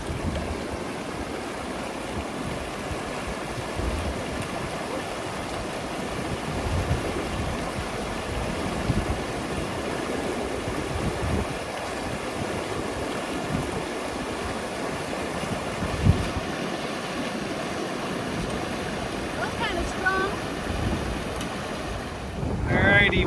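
Water rushing steadily at a river crossing on a hiking trail, a continuous broadband wash with wind buffeting the microphone throughout, sounding close and fairly loud.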